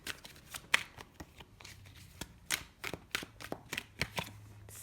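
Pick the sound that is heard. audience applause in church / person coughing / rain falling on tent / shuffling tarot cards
shuffling tarot cards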